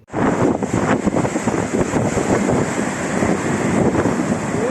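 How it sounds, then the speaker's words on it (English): Ocean waves crash against a rocky shoreline on the French coast, a loud, continuous roaring wash of surf with heavy wind buffeting the microphone and no voices. "The waves come crashing in."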